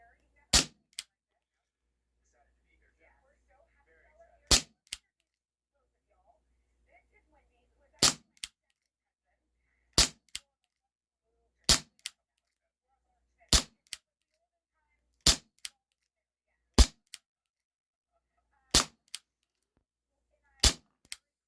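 Ten sharp shots from a Cybergun Desert Eagle Baby Eagle CO2 pistol crack out at uneven intervals, each a crisp pop followed by a quick faint tick of the pellet hitting, with near silence between.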